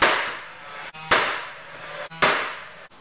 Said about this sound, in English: I'm going to use a finish gun which shoots those kind of nails.